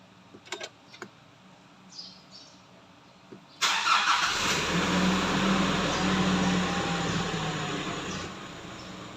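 A few quiet clicks, then a 2019 Nissan Terra VL 4x2's engine cranks via push-button start and catches abruptly, settling into a steady, loud idle hum that continues.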